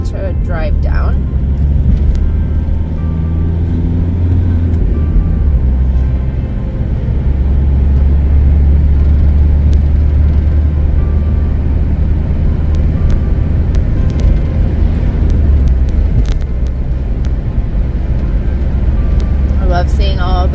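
A car travels along a bumpy country road through English farmland, its engine and tyre rumble loud and constant from inside the cabin, with occasional knocks and rattles from the uneven surface while a voice talks over it.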